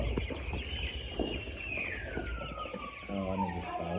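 Week-old chicks on a poultry farm make continuous high peeping calls, close and fairly faint, with a busy rustling background.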